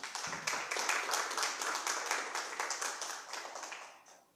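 A church congregation applauds during a sermon with steady, rhythmic clapping that sounds distant and fairly quiet, then tapers off.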